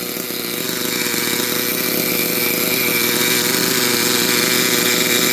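A Duratrax Maximum ST RC truck's small nitro engine idles with a high, buzzing drone, loud and steady from start to finish, with no talk.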